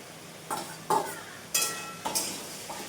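Prawns dropped into a hot frying pan in a Bengali home kitchen, giving several sharp bursts of sizzling as each batch lands, with brief spitting crackle fading between additions.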